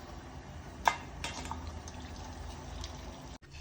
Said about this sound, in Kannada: ಆಮೇಲೆ ಅದರಲ್ಲಿ ನೀರಿರುತ್ತಲ್ಲ, ಅದು ಬಸಿಬೇಕು.